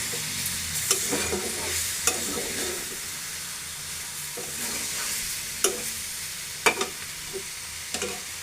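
Steady sizzle of small puti fish (pool barb) frying in a pan, with sharp scraping clicks of a utensil stirring every second or two; no talking.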